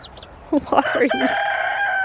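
A close chicken call, a short burst of clucks rising into a sustained, strained crow-like note, loud and alone.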